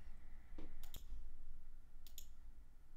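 A computer mouse clicks a few times in a quiet room, with two quick clicks close together followed by a pair more a second later, all crisp and near, over faint background hiss.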